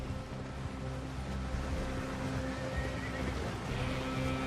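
A horse in the Red Dead Redemption 2 video game whinnies over a low ambient rumble, with faint hoof clopping and a soft background wash; no voices are heard.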